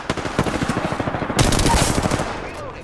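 Rapid automatic gunfire in a first-person shooter video game, a fast rhythmic stream of close, loud shots that swells into a heavier burst partway through, with a few faint voices underneath.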